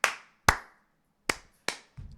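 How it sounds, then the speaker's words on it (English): Four slow, evenly spaced hand claps ring out with pauses between them, followed by a short soft rustle. "Slow clap."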